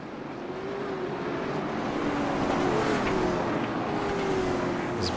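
Late model race cars in iRacing run at Hickory Motor Speedway behind the pace car, their engines giving a continuous, steady droning whine with gently wavering pitch, a pack of cars holding a moderate, even level.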